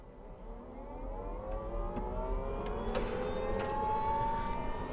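A rising electronic whine climbs steadily in pitch over a low rumble, building louder as a Porsche 963 RSP race car's hybrid system powers up.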